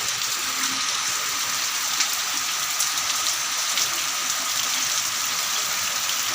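Heavy rain pours steadily outside in a village, making a dense, loud hiss with scattered drops hitting a surface up close. The sound is continuous and unbroken, and no one speaks.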